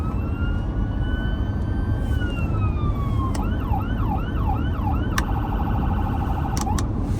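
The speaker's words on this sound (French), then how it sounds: "La mienne a une sirène différente." An Audi RS7's siren cycles through several tones: a steady wail, then a rapid yelp, then a high-low pulsing pattern over a loud rumbling background.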